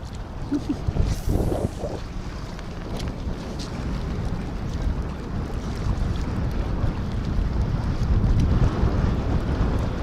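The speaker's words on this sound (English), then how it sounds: "Holy crap, that wind." Strong wind buffets the microphone on a fishing boat off the Florida Gulf Coast: a loud, continuous low roar with gusty swells that never lets up.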